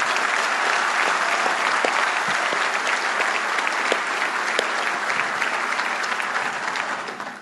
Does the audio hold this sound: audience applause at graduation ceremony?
yes